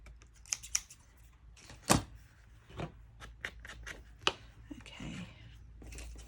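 Scissors trimming the edge of a homemade Christmas card at a card-making table, a few short crisp snips and paper rustles spread across the clip, with a sharp cut near the start and another later, against a quiet room.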